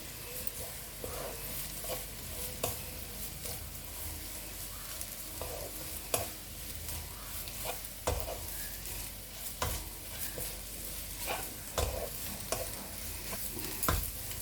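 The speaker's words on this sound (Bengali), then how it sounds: "এইগুলো একটু সামান্য নাড়াচাড়া করবো, খুব বেশি ভাজবো না নারকোল।" Grated coconut being stirred and fried in a pan, with a steady sizzle broken by regular scraping knocks of the spoon against the pan, close and alone.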